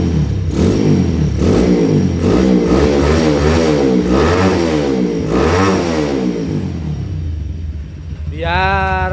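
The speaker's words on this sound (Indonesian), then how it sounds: "Untuk suara ciri khasnya TRT ya, yang tahu mesin-mesinnya TRT pasti paham karakter suara" A Honda Tiger motorcycle engine fitted with TRT parts and stroked up, revved repeatedly up and down in loud, close blips of rising and falling pitch, then dropping to idle with a higher whirring at the end.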